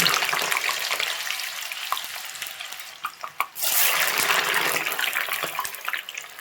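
Potato pieces dropped in batches into hot oil for deep frying set off a loud, close, steady bubbling sizzle that briefly dips before surging again, with no voices.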